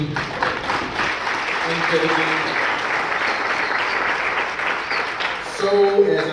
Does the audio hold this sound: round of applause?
yes